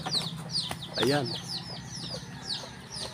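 Free-ranging native backyard chickens on a provincial farm cluck in short, repeated bursts close by, with a brief spoken word partway through.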